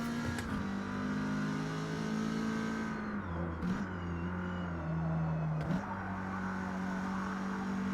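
In a Forza racing game, a race car engine drones at high revs, dropping briefly on two quick upshifts before climbing again; a steady, fairly quiet in-car tone with no talking.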